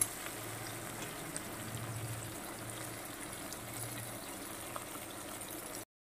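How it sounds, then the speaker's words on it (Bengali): Onion and tomato fry in a pan with a soft, steady sizzle and faint bubbling that holds evenly for several seconds before cutting off. "এবার টমেটো আর পেঁয়াজটা ভালো করে আমি ভেজে নেব"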